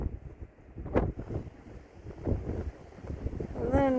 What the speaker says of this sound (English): Man, you get up here and that wind is cold.